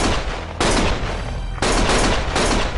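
Heavy automatic gunfire in the video game Lost Judgment comes in loud, close sustained bursts, with a short lull between them, each roaring volley filling the whole clip.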